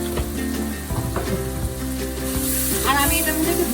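Bay leaves sizzle in hot oil in a pan for a Bengali aloo bhaji, a steady close frying hiss with brief stirring clatter, swelling slightly louder toward the end.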